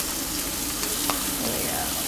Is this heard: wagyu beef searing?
yes